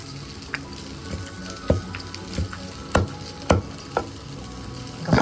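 Mint leaves and eggplant pieces fry in a pan for a chutney, giving a steady crackling sizzle broken by a few sharp clicks and scrapes from stirring. No one speaks.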